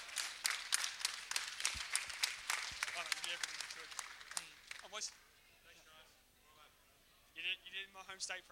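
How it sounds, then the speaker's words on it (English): Audience applause at the F1 in Schools 2014 Australian National Final, a burst of sharp claps that thins out within a few seconds, with talking over and after it and a brief renewed patter near the end. "I reckon they deserve a massive round of applause."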